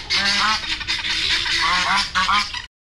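A goose honks several times in quick succession, its loud, nasal calls coming close and clear with brief pauses between bursts.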